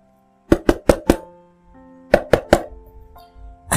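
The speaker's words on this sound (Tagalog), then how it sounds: "patuloy pa rin ito sa pagkatok sa kanilang pinto" Knuckles rap on a house door in two quick bursts, four firm knocks and then three, followed by one more knock after a pause. The knocks are close and sharp against a quiet background with a faint tone.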